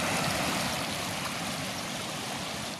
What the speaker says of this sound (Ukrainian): потужний потік заввишки з півметра ринув через дорогу